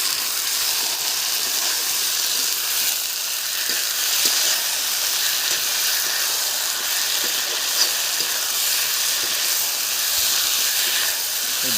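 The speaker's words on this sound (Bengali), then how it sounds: "এখন দিয়ে দেব টমেটো আর দিয়ে দিচ্ছি বাটা মশলা" Tomato and ground spice paste added to fried onions in a frying pan for a fish curry, a loud, steady, hissing sizzle that runs unbroken with faint stirring ticks, close and alone.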